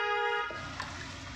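A car horn sounds with a sustained harmonic honk of about half a second, loud and close inside a car during a driving lesson in traffic, followed by quieter engine and road noise.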